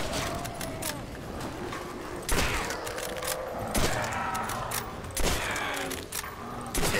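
Rapid gunfire in Call of Duty: World at War as shots are fired at zombies, with several sharp bursts and thuds over busy game noise and effects.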